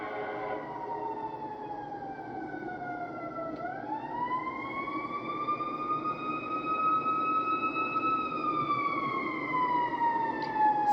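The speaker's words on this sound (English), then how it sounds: "Listen to this ambulance siren." A loud ambulance siren wails steadily and close by, its pitch sweeping slowly up and then falling away as the vehicle passes, with traffic rumbling underneath throughout.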